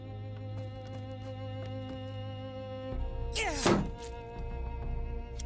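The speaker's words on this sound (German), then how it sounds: "schlägt damit den Schild kaputt." A sharp smashing impact with a bright crashing burst breaks a shield in the video game Expeditions: Viking, rising over a steady droning game soundtrack.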